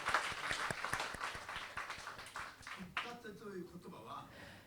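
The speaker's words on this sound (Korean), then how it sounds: "주님께 박수로 영광 돌리시기 바랍니다" A church congregation at a Sunday worship service claps for a few seconds, faint and slightly rhythmic, before a voice begins speaking and the clapping fades.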